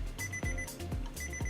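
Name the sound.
drawing timer alarm beeping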